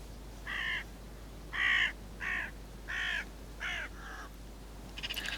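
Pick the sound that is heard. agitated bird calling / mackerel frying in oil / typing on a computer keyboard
agitated bird calling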